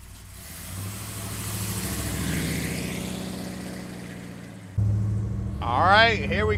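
A 1955 Chevrolet Bel Air with a 572 engine rumbles steadily from inside the car as it drives, with a low throbbing drone that swells briefly near the end, while people talk over it.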